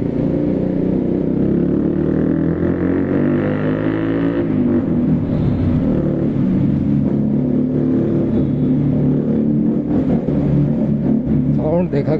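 Bajaj Pulsar 125 motorcycle fitted with an SC Project exhaust, revving loud and near with a rising then falling engine note, followed by a rougher idle and a few sharp blips.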